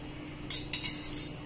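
A spoon mixing a little oil into cooked rice for rasiya dhokri, making two quick, close metallic scrapes or clinks against a vessel amid a quiet room hum.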